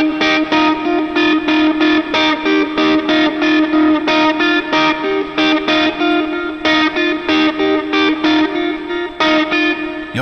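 Effects-laden electric lead guitar plays a chorus part, a steady run of loud, rhythmic repeated notes with distortion and chorus, continuous and with no talking.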